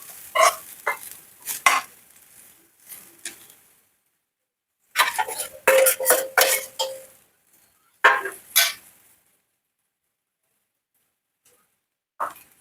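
Chopped jackfruit tossed into a pan and stirred, giving clustered bursts of scraping, clattering spoon-on-pan strokes with brief sizzling, separated by quiet pauses and a last short scrape.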